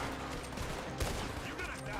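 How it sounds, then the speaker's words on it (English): Gunfire in Red Dead Redemption 2 crackles as a short volley of shots with one sharp report near the middle, fairly quiet and mixed with a voice. "I shot. Alright, I'm getting shot."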